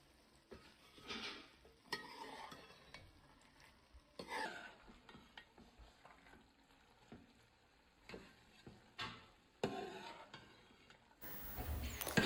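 A ladle stirs a vegetable mixture of drumstick, potato and cluster beans in a pot for a broad beans gravy, giving intermittent scraping and clinking strokes with faint sizzling between, no talking.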